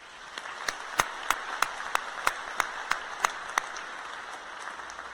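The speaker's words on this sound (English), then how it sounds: "Please give her a round of applause." Sparse, scattered handclaps from a high school graduation audience, a dozen or so distinct claps in an irregular rhythm over a low background murmur, fairly quiet and distant.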